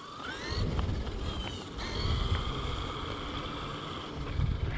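A Traxxas X-Maxx 8s RC truck on its speed run, its electric motor whining at a high pitch that rises and falls, mixed with heavy wind buffeting the microphone.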